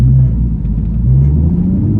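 A Ford Mustang with an aftermarket intake, ignition system and exhaust idles in a deep, steady rumble, loud and close with no voices.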